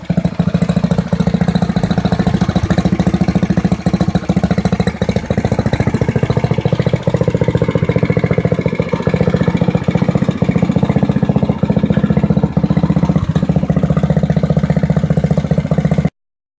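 A Doodlebug DB30 minibike engine runs loudly and steadily for about sixteen seconds, a close, rough mid-pitched drone that cuts off abruptly at the end, with no talking.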